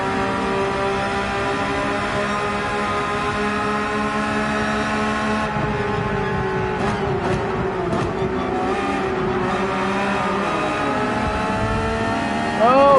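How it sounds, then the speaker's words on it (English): A race car engine in Gran Turismo 7 at Brands Hatch drones at high revs, its pitch climbing and shifting through gears as the car accelerates down the track, loud and continuous. "pedal to the metal as we race down the track here"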